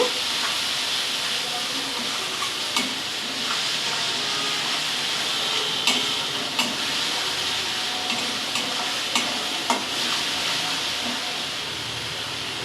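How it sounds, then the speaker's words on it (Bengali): Spice masala for a Bengali poa fish curry fries with a steady broadband sizzle and hiss, broken by occasional sharper scrapes and clinks from stirring, close and continuous with no talk. "স্বাদ মতো নুন মশলাটা ভালো করে কষিয়ে নেব"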